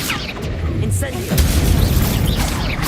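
Incendio fire spell in Hogwarts Legacy combat, a loud booming burst that swells near the middle and sustains amid crackling effects and background game sound, with some voice mixed in.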